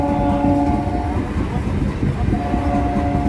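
A local passenger train running from Tarakeswar to Howrah rumbles past close by at a level crossing, a loud steady roar of wheels and carriages with a faint horn tone, without any talk.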